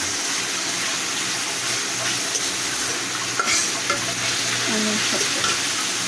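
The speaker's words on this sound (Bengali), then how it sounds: "আমি কড়াইয়ের ভিতরে তেল পেঁয়াজ তেলে নিতে আসছি বা ভেজে নিতে আসছি" Onions fry in hot oil in a wok (kadai) for a chapila fish bhuna, giving a loud, continuous sizzle with occasional scraping stirs.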